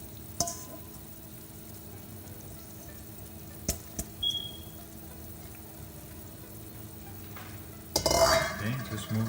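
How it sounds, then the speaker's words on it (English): Washed rice being stirred gently in a pot of boiling water over high heat, soft sporadic scraping and bubbling with a few sharp knocks and a louder burst of sizzling and stirring near the end. "just move this rice around very gently and on high heat."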